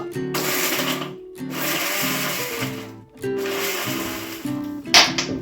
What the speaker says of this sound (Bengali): নিলাম মশলাটা, এবারে পিষে নেব